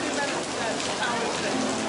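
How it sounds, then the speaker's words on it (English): Pouring rain at an outdoor concert setting near a fountain, a dense steady hiss of falling water filling the whole clip, loud and continuous with no gaps. "It's pouring rain."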